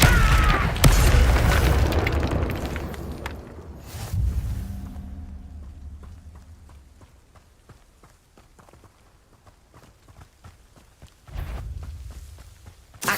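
Fiery spell blasts in the Hogwarts Legacy video game: a loud booming burst up front, a second deep impact around four seconds, then scattered thuds and footstep-like clatter fading before another swell of blasts near the end.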